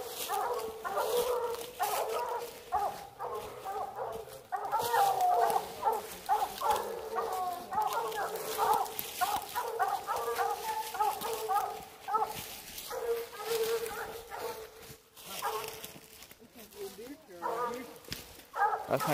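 Hounds bark steadily in the distance at a treed raccoon in East Tennessee, a chorus of repeated yelps and bays continuing throughout, with people talking over them at times.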